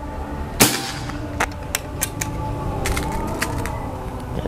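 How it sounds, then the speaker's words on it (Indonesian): A single sharp crack from a PCP air rifle shot rings out near the start, followed by scattered light clicks and handling taps in a quiet outdoor setting. "Tembakan ketiga ya ini."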